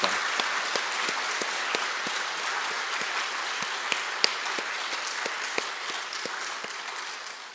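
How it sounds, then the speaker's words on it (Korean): A church congregation gives steady, sustained applause for the joint choir after an Easter Sunday cantata, a dense wash of many hands clapping evenly throughout with no voices on top. "우리 은혜로운 찬양을 들려주신 우리 연합찬양대에 우리 뜨거운 하나님 앞에 감사의 박수 드립니다."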